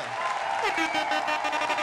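Applause from an audience: a scattered, crackling clatter of clapping that runs steadily for a couple of seconds.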